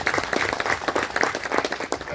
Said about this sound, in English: can we have a huge round of applause for Dr. S.C. Jamir for sharing his thoughts with us